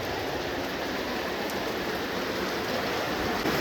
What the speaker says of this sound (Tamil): மழை சூப்பராக பெய்யுது